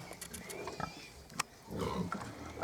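Piglets on a small mini pig farm grunt and oink in short bursts close by, with rustling and snuffling between calls.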